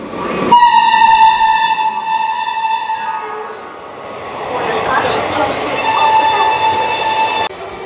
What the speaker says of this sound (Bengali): এখন সব আপের ট্রেন যাচ্ছে, ডাউনের একটা ট্রেনও নেই